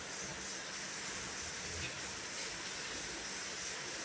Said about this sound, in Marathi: हे बघा, आपली भाजी उकळत आहे छान